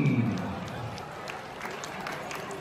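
Applause from a crowd, loudest at the start and easing into a steady patter, with a voice faintly mixed in.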